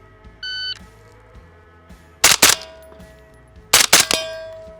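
Two pairs of sharp metallic clangs ring out from 50-yard C-zone steel as a rifle fires quick doubles at it, each double a close pair of loud impacts with a lingering ring, after a brief electronic timer beep.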